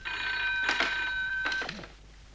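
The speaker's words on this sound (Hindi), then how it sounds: "वो फोन आ रहा है ना।" A telephone in a household scene rings in two bursts of metallic bell trills separated by a short pause, with the second burst fading.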